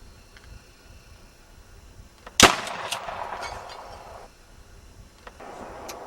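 A single sharp rifle shot rings out at moderate distance over quiet outdoor ambience, followed by a fading rumble of echo.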